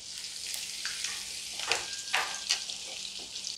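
Two dried red chillies drop into hot coconut oil with popped mustard seeds, giving a steady close hiss of sizzling with brief louder crackling bursts and stirring scrapes, no voices.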